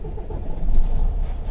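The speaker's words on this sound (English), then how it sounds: "I'm going to start my truck." A truck engine cranks and catches at a DOT inspection stop, a brief loud rumble that swells midway and settles into a steady idle with a thin high whine over it.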